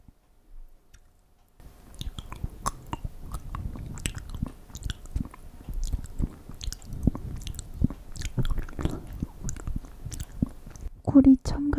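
Someone chewing a bite of honey chestnut yanggaeng close up, soft repeated wet squishing and light clicks that start after a short silence and continue steadily, with a brief bit of voice near the end.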